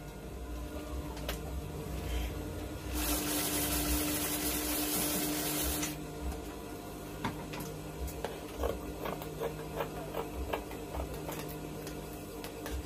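A sewing machine stitches kimono robe fabric in bursts of fast mechanical ticking and whirring, with one longer steady run in the middle and shorter taps around it.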